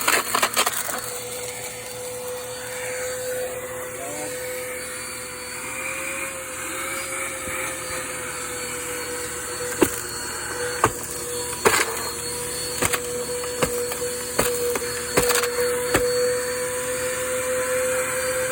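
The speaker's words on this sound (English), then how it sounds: "Let's vacuum over here." A vacuum cleaner runs steadily with a sustained motor drone while sucking up garbage and debris from the floor, with scattered clicks and rattles of bits hitting the nozzle, especially toward the end.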